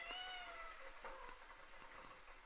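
A cat meowing in the video game Fallout 76, several clear tonal meows near the start and then softer cries over a steady background hum, with no talk.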